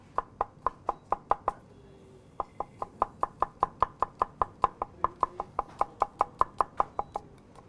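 A knife chops garnish on a cutting board in a steady run of crisp, close knocks, about twenty-five evenly paced strikes with one short pause, no talking.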